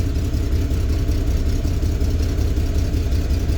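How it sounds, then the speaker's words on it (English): A 2000 GMC Jimmy engine runs rough with a multi-cylinder misfire in cylinders 2 and 4, a steady, close, low rumbling idle that holds throughout with no talking. "Yeah, it's running really rough. It definitely needs spark plugs."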